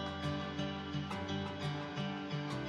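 Lower-pitched guitar loop at its original unshifted pitch plays a repeating plucked phrase with rhythmic note attacks and a dense, muddy low register, steady throughout with no voices.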